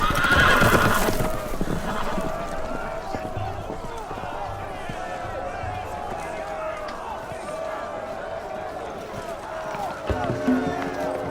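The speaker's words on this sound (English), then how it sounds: "The horses! They're loose!" Horses in a Game of Thrones video game whinny and gallop loose, hooves pounding in a fast rhythm amid a busy, chaotic scene, with a loud neigh at the start.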